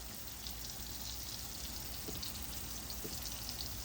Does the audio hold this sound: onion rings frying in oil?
yes